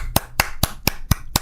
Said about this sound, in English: Let's all clap for that battle mode.